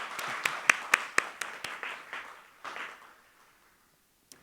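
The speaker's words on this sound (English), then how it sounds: "can we give a big round of applause to everyone?" A small audience claps at the close of a final conference session, a few sharp, distinct claps followed by thinning, quieter applause that dies away.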